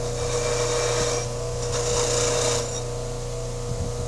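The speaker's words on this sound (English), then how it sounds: "Come over to the polishing wheel. Again, it's tangent to the wheel, but you sort of bury it in there." A spindle gouge is pressed into a spinning buffing wheel, making a steady whirring rub of the motor and wheel with a soft abrasive hiss that swells and eases.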